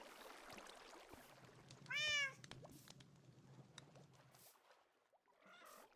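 A Minecraft cat gives one clear, loud meow around the midpoint, sounding over low game background noise and scattered soft clicks.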